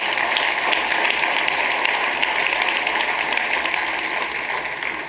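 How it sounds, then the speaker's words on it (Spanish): A church congregation applauds together in a steady, dense wash of clapping that holds at an even level throughout, with no talking over it. "¿Cuántos se puede dar un aplauso al Señor?"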